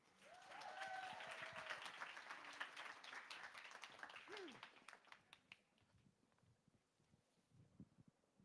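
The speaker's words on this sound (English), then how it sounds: "A round of applause again." An audience at a youth conference applauds, a sustained patter of clapping with a few faint voices that fades midway, leaving scattered claps and quiet room noise.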